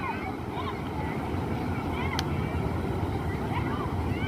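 Water surges hard as it overflows Huai Saneng reservoir in Surin, a constant low roar heard from a distance, fairly faint, with wind buffeting and faint voices in the background.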